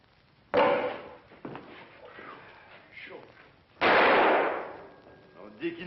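A revolver gunshot shatters a window in a cowboy film scene: a sharp, loud bang early on, quieter voices and knocks in between, then a second long, harsh burst of noise near the end.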